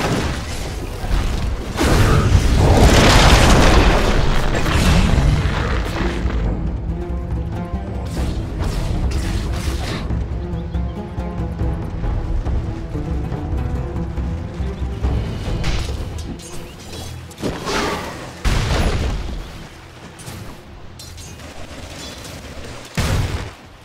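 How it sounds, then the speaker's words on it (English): Dota 2 tower under attack on the Dire bottom lane, heard as a loud, continuous barrage of booms, crashes and impacts that peaks early and then settles into steadier clashing combat with intermittent heavy hits. "Dire's bottom tower is under attack."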